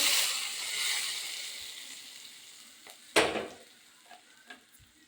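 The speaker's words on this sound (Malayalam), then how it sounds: "നമുക്ക് കടുക് താളിച്ചതും കൂടെ ഒഴിച്ച് കൊടുക്കാം ഇതിലേക്ക്" Tempered mustard seeds poured into a papaya masala curry, an opening burst of hissing sizzle that fades, followed by a few sharp clanks and scrapes of a spoon against the pot.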